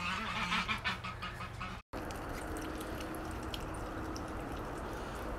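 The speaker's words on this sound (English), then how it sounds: "So here's the geese coming to take their bath" Geese honking repeatedly on a farm as they head toward water for a bath, a dense chorus of calls with ducks alongside, steady throughout with a brief dropout partway.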